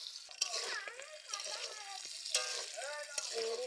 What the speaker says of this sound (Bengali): আমি কড়ার মধ্যে তেল দিয়ে দিচ্ছি, লবণ আর হলুদ দিয়ে আমি চিংড়িগুলো প্রথমে ভেজে নিচ্ছি।